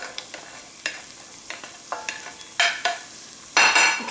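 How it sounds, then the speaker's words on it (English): Carrots go into a hot pot for a roasted corn and smoked salmon chowder, with a scatter of clattering stirs and bursts of hissing sizzle that grow louder toward the end, close and without talk. "we're going to add the carrots"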